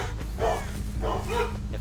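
Dogs in a room bark in short bursts, two or three yips spaced across a moment, moderately close, over a low steady hum with no talk.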